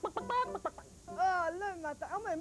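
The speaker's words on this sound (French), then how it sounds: "c'est le coq qui chante et qui se réveille" A rooster crows in a long, wavering call in the middle of the clip, set between bursts of lively French speech at close range.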